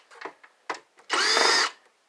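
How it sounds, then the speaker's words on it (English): Power drill used while scrapping an old Dell PC, a few short whirring bursts followed by a sustained high whine of about half a second, close up. "Where's my drill? There's my drill."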